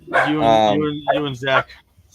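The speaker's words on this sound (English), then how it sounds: "The puppy's going nuts." Puppy barking in short, excited yaps amid a household scene, close and loud, heard alongside a person speaking over it.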